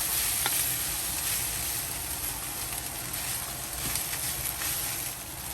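Seasoned lamb fried rice being tossed and mixed in a hot pan, giving a steady close sizzle with faint scraping and stirring clicks throughout.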